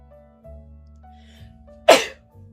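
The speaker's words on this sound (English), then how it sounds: "So let me sneeze really quick because I fucking need to sneeze all of a sudden." A single sharp human sneeze bursts out loud and close, a brief breathy blast near the end that follows quiet background music.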